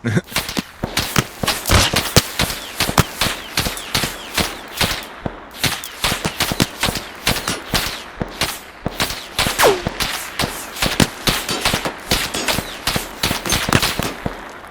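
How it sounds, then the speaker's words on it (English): Distant AKM rifle fire in a video game, shots cracking in quick irregular bursts and rapid volleys, fairly loud with a thin, echoing edge, no voices. "the al-Zalaam AKM, the standard al-Zalaam rifle from farther out"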